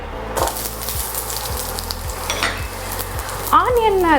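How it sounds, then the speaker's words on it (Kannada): Chopped onions sizzle and fry in well-heated oil in a pan while chilli paneer is cooked, with a steady loud crackle, repeated utensil scrapes of stirring, and a short clatter near the end. "ಈಗ ಚಾಪ್ಡ್ ಆನಿಯನ್ಸ್ನ ಆ್ಯಡ್ ಮಾಡ್ಕೋತಾ ಇದ್ದೀನಿ ಆಯಿಲ್ ಚೆನ್ನಾಗಿ ಹೀಟ್ ಆಗಿದೆ"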